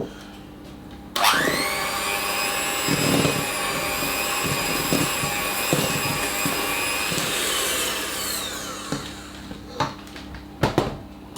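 Electric hand mixer beating a fruit cake batter in a bowl, a steady high motor whine that starts abruptly and runs about seven seconds before winding down, followed by a few clinks and knocks, loud and close with no talking.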